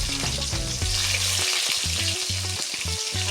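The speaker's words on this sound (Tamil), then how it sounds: "சோம்பு பொரிச்சதும் வெங்காயம் போட்டுக்கலாம்." Onion goes into hot oil with fennel seeds for a tomato thokku, giving a loud, dense sizzle and crackle that continues throughout, with stirring and utensil scrapes heard over it and no talk.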